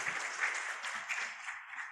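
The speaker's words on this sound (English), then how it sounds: "Another round of applause to..." An audience at the launch of a rule of law report applauds, with a steady patter of many hands clapping, distant and fairly faint, for about two seconds.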